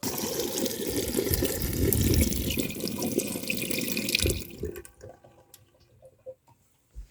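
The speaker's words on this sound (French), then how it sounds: "j'ai allumé la pompe à eau" Water from a pump-fed tap gushing hard into a camper van sink, loud and continuous for about four seconds before cutting off, leaving faint drips and small knocks in the quiet.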